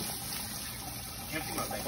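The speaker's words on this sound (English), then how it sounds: "I'm gonna rinse it with this water first" Water runs steadily while St. Lucian Irish sea moss is rinsed by hand, a continuous splashing wash that fills the whole stretch at moderate level.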